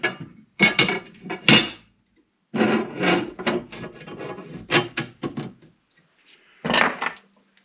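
Metal bolts being handled while working on a 30-inch Harbor Freight metal brake, a series of clinking, rattling metallic clatters in uneven bursts with short pauses between, close and fairly loud, no talk.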